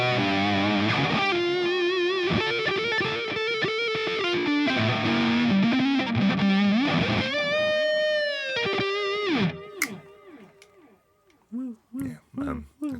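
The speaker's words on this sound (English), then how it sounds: "Distortion. So this is a Rat, vintage Rat." Electric guitar played through a vintage Rat distortion model on a Line 6 POD Express, loud sustained distorted chords and bends filling the first nine seconds, then sparser single picked notes with gaps.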